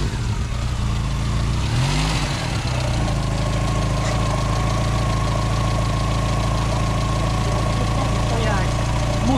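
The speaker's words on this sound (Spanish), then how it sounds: "aquí escucharéis ruido de escape porque lógicamente este coche tiene el escape ya perforado y no suena suave" A Skoda 130 Rapid with a perforated exhaust idles close by, its rough, uneven engine note holding steady with a slight rise in revs partway through, the exhaust leak adding a coarse rasp.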